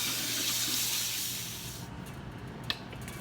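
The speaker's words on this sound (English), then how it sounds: "Wash it with cold water." Cold tap water runs in a steady loud hiss while cooked noodles for Kapampangan pancit luglug are rinsed, then the flow stops and a short clink follows.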